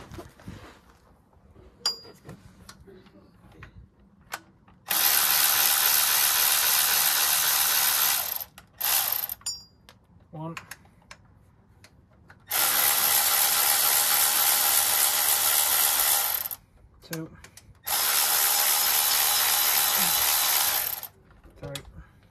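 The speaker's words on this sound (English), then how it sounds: "Let's get the cordless ratchet and find out." Cordless ratchet undoing bolts on a Ford Fiesta EcoBoost, three long loud whirring runs of several seconds each, separated by quieter clicks and handling noises.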